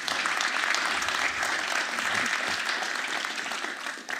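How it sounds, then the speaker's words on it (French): An audience at the closing session of a transport and mobility conference applauds in a steady, moderately loud burst of many hands that fades slightly near the end. "vous pouvez les applaudir"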